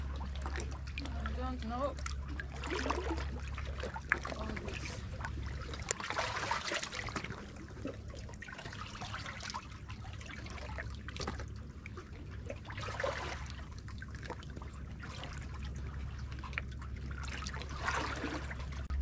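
Water trickles and sloshes faintly as someone wades barefoot through a rocky sea cave on the Croatian coast, with a low steady rumble beneath and a voice talking over it throughout.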